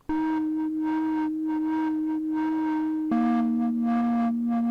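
An Arturia MicroFreak synthesizer holds a sustained tone with steady harmonics, pulsing in a regular wobble from its cycling envelope, then drops to a lower pitch partway through and keeps cycling.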